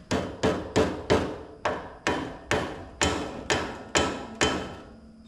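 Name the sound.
hammer whacking a stuck part on a John Deere corn sheller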